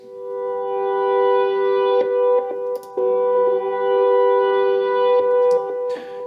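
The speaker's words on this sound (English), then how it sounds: "did some effects with guitar swellings." Sustained reversed electric guitar volume swells fade in and out, drenched in echo and chorus, with a few soft attacks and brief pauses between long notes.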